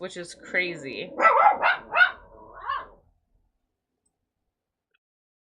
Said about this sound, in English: that's the garbage truck coming through. My dog's barking at him.